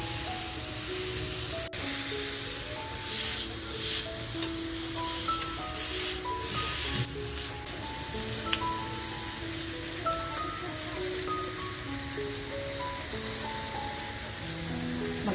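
Butter sizzles steadily over butter garlic tandoor tiger prawns, a continuous bright hiss running the whole time beneath light background music.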